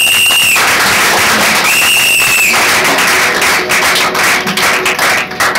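Congregation at a church wedding applauding loudly and steadily in a dense wash of clapping, with a few whistles or cheers rising above it.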